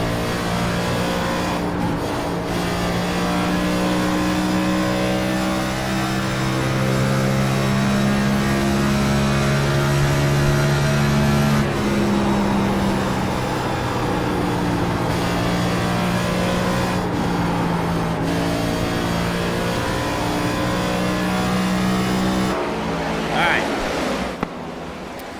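A race car engine in a NASCAR racing video game, heard onboard during a lap, holds a loud steady drone with shifting pitch as it revs up and down through gears, continuous throughout.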